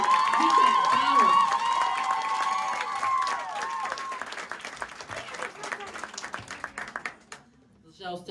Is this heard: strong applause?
yes